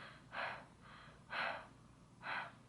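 A person imitates heavy, out-of-breath panting, with three loud, drawn-out breaths spaced about a second apart against a quiet background.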